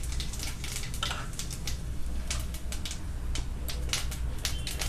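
A small spoonful of cumin seeds sizzles in hot oil with a crackly, popping hiss, sharp bursts scattered irregularly over a steady frying noise, close and fairly quiet, without talk.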